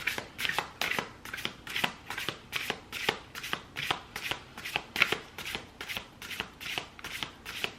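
A deck of oracle cards is shuffled in a steady rhythm, roughly twenty quick riffling bursts close to the mic with quiet pauses between, and no talking.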